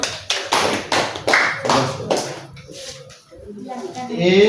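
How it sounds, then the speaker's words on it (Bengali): Schoolchildren in a sixth-grade maths class clap in a burst of separate sharp claps, close and loud, which fades out and gives way to voices speaking toward the end. "তার জন্য একটা হাততালি হোক"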